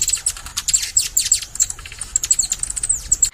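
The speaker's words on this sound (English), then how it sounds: "Hummingbird." A hummingbird gives rapid, high, thin chirps and squeaks in quick irregular bursts, close and fairly loud, with no voices.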